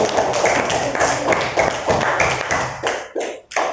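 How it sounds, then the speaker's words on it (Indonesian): Children in a primary classroom clap their hands in rhythmic bursts, close and fairly loud, the claps falling into a patterned beat with short pauses near the end. "Beri tepuk tangan untuk teman-teman kalian yang sudah mampu."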